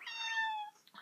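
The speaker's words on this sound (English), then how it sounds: "That's my 18-year-old cat who won't stop meowing." An elderly 18-year-old cat lets out a single drawn-out, high meow close by, lasting under a second and trailing off.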